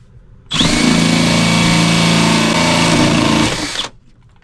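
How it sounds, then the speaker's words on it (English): A power drill whirs loudly and steadily for about three seconds while boring a hole during a camper van wiring build, then winds down to quiet. "I'm gonna drill another hole."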